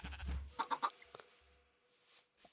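Sheep bleating in a video game: a few short, quiet bleats sound close up with gaps of near silence, and no talk is heard.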